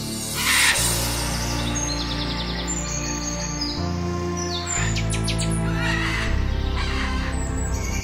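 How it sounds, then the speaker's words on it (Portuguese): A flock of Amazon rainforest birds calling, with loud overlapping chirps, squawks and harsh cries close by, layered over dense continuous jungle background noise with no talking. "Essas aves são conhecidas por sua habilidade em encontrar barrancos para comer sais minerais"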